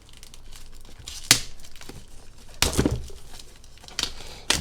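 Plastic shrink wrap crinkles and tears as it is pulled off a Magic: The Gathering Strixhaven bundle box, with several sharp ripping bursts among softer crumpling noise, close up and with no talk.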